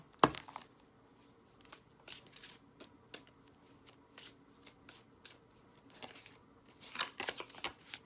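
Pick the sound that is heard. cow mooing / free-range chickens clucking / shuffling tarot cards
shuffling tarot cards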